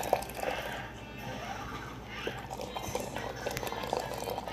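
Water coming to a boil in a pot or kettle for making coffee, with a steady, moderately quiet bubbling and simmering that continues throughout and has occasional small clinks.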